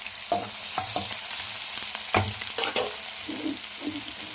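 Ginger garlic paste frying in a pan, vigorous stirring making repeated scraping and knocking strokes over a constant close sizzle, no voices.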